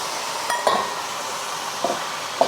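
Meat searing in a hot pan for a noodle dish, with a constant close sizzle broken by a few sharp clinks and scrapes of a utensil against the pan.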